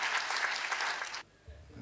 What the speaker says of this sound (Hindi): एक बड़े व्यक्तित्व के लिए बड़ी तालियां होनी चाहिए।